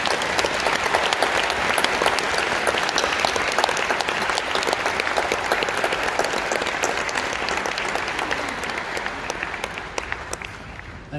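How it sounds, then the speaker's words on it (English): Steady, dense applause from an audience at a university graduation ceremony fills the whole stretch, loud and even with crisp individual claps and no talk over it. "applause."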